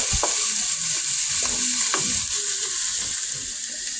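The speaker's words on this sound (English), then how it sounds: "we'll fry our onions and then we'll add our garlic next" Sliced onions and five cloves of sliced garlic fry in a pan with a steady, bright sizzle that runs the whole time. A few soft stirring knocks and scrapes sound close by, and no one speaks.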